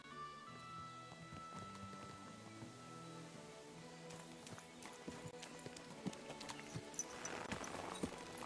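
Horse hooves clip-clopping at a running pace in Kingdom Come Deliverance 2, faint and rhythmic beneath game music, with louder hoofbeats toward the end.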